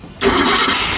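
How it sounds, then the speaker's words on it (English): A 1975 Mercruiser 302 V8 boat engine, coil hot-wired, cranks and catches after a brief quiet start, then holds a loud, steady, close running roar for the rest of the second. "We're gonna hot wire the coil and see if she starts any better."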